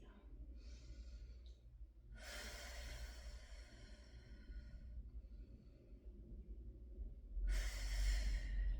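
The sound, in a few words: deep breathing during a mobility exercise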